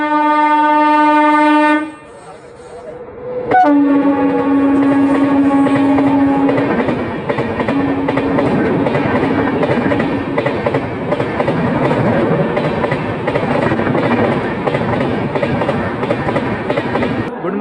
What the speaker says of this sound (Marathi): समोरून एक ट्रेन पास होईल, जे की आपण त्याला क्रॉसिंग म्हणतो